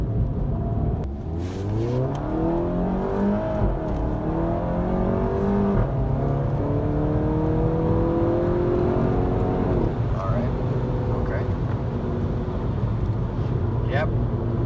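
A VW Golf GTI MK7 with a Cobb Stage 2 tune accelerates through its DSG gears, the engine note climbing and dropping at each shift, heard from inside the car under continuous talking.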